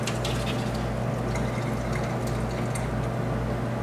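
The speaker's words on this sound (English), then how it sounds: "And then just pour the last bit of it out" Cleaning liquid poured out of a keg during keg cleaning, a steady close splashing and trickling wash of liquid that carries on evenly throughout, with a constant low hum underneath.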